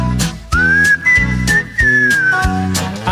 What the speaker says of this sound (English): And I'm in the mood for whistling.